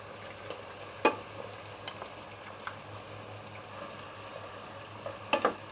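Butter sizzling in a pan during a stir fry for chicken mushroom rice: a faint, steady crackle with a few sharp utensil clinks against the pan.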